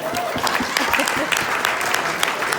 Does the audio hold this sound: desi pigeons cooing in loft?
no